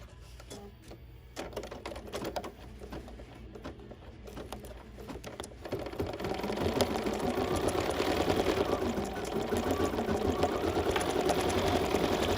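An embroidery machine stitches a sampler block, starting with sparse needle taps and building into a continuous, fast rhythmic stitching hum that stays close and steady.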